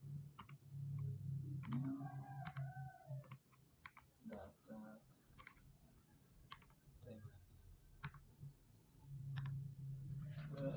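Quiet keys clicking on a computer keyboard in irregular short bursts, faint and close, over a low steady hum.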